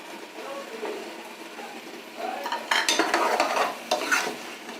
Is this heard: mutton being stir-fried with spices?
yes